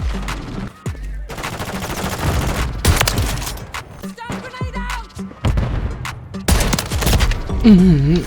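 Repeated shotgun blasts in Call of Duty Warzone III, with the new Reclaimer 18 shotgun firing in bursts amid other close gunfire, loud and sharp throughout the firefight.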